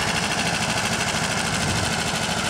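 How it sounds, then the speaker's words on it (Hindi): Escort 335 tractor engine running steadily, hauling a loaded trolley of about 50 quintals, a constant close mechanical drone with a faint knocking rhythm and no talk. "आवाज़ देख ले क्या शानदार आवाज़ है एस्कॉर्ट 335 की"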